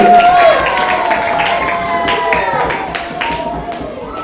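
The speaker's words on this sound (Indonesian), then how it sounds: "Mari kita berikan tepuk tangan yang meriah untuk peserta anak kita dari kelas 2B." A school audience at a language-month event claps and cheers for a class of young pupils after their performance, a lively crowd applause with a voice and some shouting mixed in, gradually easing off.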